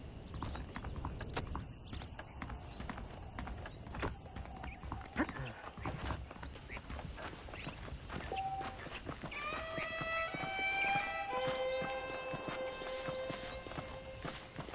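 Horse hooves clip-clop at a walk in the Western video game Red Dead Redemption, a steady moderate patter under game ambience, with a few tonal musical notes rising late and no talk.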